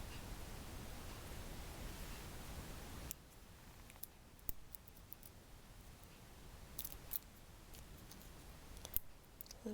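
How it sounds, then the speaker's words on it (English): Card pieces peeled from their backing sheet while making Yule cards, heard as faint close crinkles and small sharp clicks over a steady hiss, with no voices. "So I'm just going to peel those off the back."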